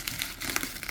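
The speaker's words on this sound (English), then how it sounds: "we'll go ahead and cut open the bubble wrap on" Bubble wrap around a boxed China Dress Yatogami Tohka figure crinkles and crackles as scissors cut it open, a close, busy run of small crisp rustles lasting about a second.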